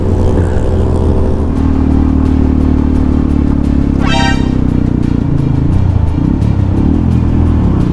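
A motorcycle engine drones loudly and close throughout, with a brief horn toot midway and traffic rumble around it.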